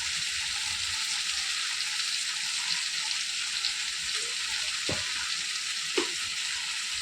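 Spiced food with turmeric and salt frying in a pan, a steady bright sizzle close by with a few soft knocks of stirring near the end.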